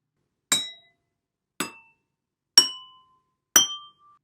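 Glass bottles filled with different amounts of water tapped four times at a steady pace, each strike a bright clinking ring with a short decaying tone, clear and alone.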